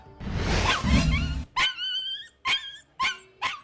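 Impounded dogs bark at a dog pound, a confused jumble of barking at first followed by three or four separate sharp barks and yips, close and loud.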